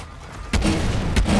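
Explosions in the video game Call of Duty: Modern Warfare 2 Remastered, two heavy booming blasts about half a second apart, loud and close, with a rumbling low tail after each.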